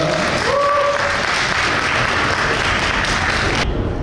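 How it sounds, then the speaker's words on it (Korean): An audience applauds a company representative at a Korean pro wrestling event announcement, steady loud clapping filling the scene, with a brief voice early on before the applause cuts off near the end. "호사진 대표님께 더불어 큰 박수 한번 드리겠습니다"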